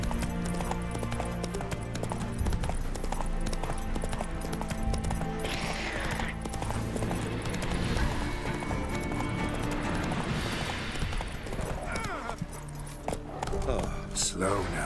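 A horse gallops with steady clip-clop hoofbeats through The Witcher 3, with an occasional whinny and someone talking over the hooves.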